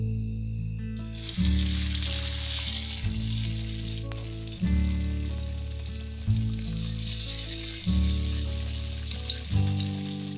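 Eggs fry in a fair amount of oil for telur geprek, giving a steady, crackling sizzle throughout, layered over background music with a recurring low chord pattern.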